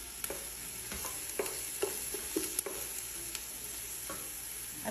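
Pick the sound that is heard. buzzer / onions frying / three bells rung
onions frying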